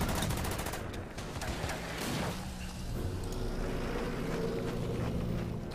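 Gunfire in the World War II strategy game Order of Battle: bursts of rapid shots, dense at the start and thinning later, over a rumbling battle background.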